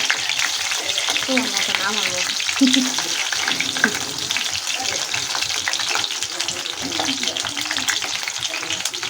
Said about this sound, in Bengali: তো এই যে ভাজতাছি।